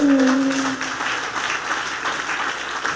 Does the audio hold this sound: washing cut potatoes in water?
no